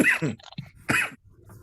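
Two short, sharp coughs from a listener in a lecture audience, close and fairly loud, separated by a brief quiet gap and followed by faint room noise.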